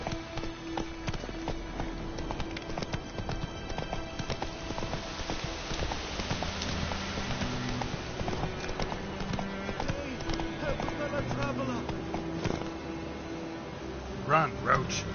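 Roach, a horse, galloping in The Witcher video game: a steady rhythmic clip-clop of hooves running at pace, moderately loud, with voices and game music layered over it.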